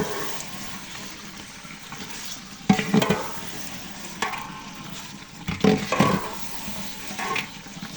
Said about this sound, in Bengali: এখন ভেজে রাখা চিকেনগুলো দিয়ে দেব। দিয়ে একটু নেড়ে নেব।